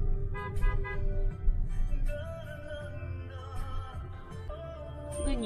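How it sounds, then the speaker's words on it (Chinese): A driver's car horn honks on a narrow village road in rural China, heard from inside a car over music and cabin noise. "前面这个司机拼命的按喇叭"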